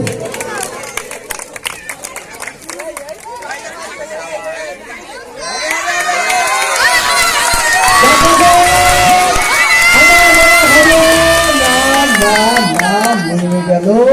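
A crowd of children claps and cheers loudly at a banana tree climbing contest. The shouting and applause rise partway through and stay dense and excited over scattered talk.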